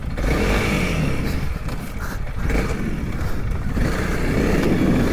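Honda CRF300L motorcycle accelerating in third gear, a loud steady engine drone with wind rush close to the microphone, no talking.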